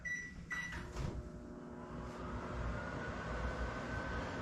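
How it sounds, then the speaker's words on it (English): A microwave oven runs with a steady, even hum from start to finish. Brief clicks and knocks come near the start, with no talk. "gonna microwave this guy going"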